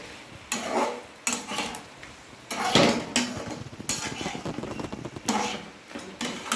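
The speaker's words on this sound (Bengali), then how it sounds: "এবার ঢাকা খুলে আবার একটু নাড়ব" A pot lid comes off and mutton curry with potatoes is stirred, producing several loud metallic clanks and scraping strokes of a spoon against the pot in uneven bursts, close up, with no talking.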